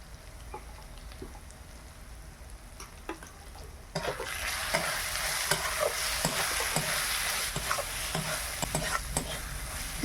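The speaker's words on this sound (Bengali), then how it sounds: "ভালোভাবে মশলাটা ভেজে নিয়েছি" Ground coriander and cumin powder sizzle and fry in a pan with oil, a steady crackling hiss that swells louder partway through, with occasional stirring scrapes close by.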